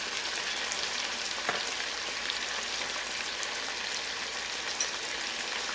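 Mustard seeds, fennel and nigella fry in oil, a soft, even sizzling hiss like light rain with a few faint pops, steady and close, no talking.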